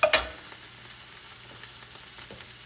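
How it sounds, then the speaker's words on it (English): Garlic sautéing in a pan gives a steady soft sizzle after a brief clatter at the start, with faint stirring taps. "I'm gonna go ahead and add my garlic."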